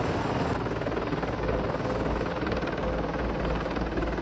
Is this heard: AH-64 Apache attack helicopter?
yes